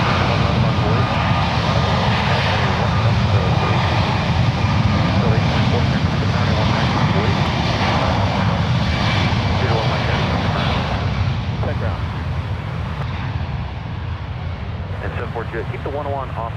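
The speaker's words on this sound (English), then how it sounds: "That is United Airlines Flight 2652 departing to Boston. It's a 3-year-old 737 MAX 9." A three-year-old United Airlines Boeing 737 MAX 9 departs from San Francisco International for Boston, its engines a steady, broad roar that holds loud through the whole stretch while a voice talks over it.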